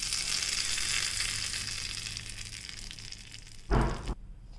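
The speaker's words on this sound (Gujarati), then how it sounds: "હવે આપણે ચટણીમાં વઘાર કરી લઈએ" Curry leaves crackling in hot oil for a peanut chutney tempering, a close, steady sizzle and spatter with no talk, ending in a brief louder whoosh as the oil is poured.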